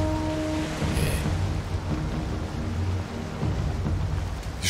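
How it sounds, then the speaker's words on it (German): A thunderstorm rolls over the open sea in Valheim: steady heavy rain and wind hiss with low rumbling thunder, loud and continuous with no talking. "Wir scheinen dem Unwetter ein bisschen zu folgen"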